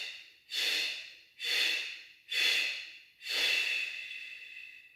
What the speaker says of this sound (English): Nice relaxed breath, breathe out.